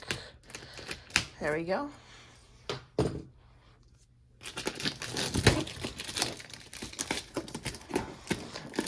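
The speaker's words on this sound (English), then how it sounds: "We're gonna use the screwdriver real quick to break open the plastic." A screwdriver breaks open plastic packaging on a giant mystery box, giving close crinkling and crackling bursts, a brief spoken remark, then a longer stretch of dense snapping and rustling plastic.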